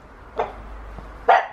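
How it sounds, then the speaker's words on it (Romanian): A dog barks twice, about a second apart, fairly near and moderately loud, with quiet ambient background between the barks and no talking. "Uite-mă, latră câinele."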